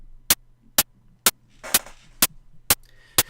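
A very short white-noise click trigger made with the FL Studio 3X Osc repeats seven times at an even, quick pace, each a sharp, loud burst of hiss with quieter tonal sound drifting between some hits.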